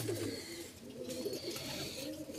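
Pigeons cooing inside a coop, several soft overlapping throaty coos repeating close by at a moderate level.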